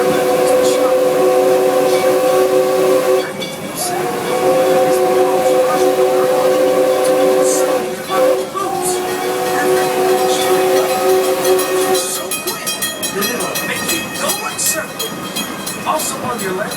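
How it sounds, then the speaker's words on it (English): The amusement park train at Six Flags Over Texas sounds its horn in long, loud, sustained blasts over rolling wheel noise and clatter, with the rumble continuing after the horn stops. "Train crossing."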